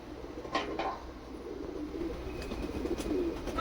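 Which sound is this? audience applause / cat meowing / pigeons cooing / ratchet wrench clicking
pigeons cooing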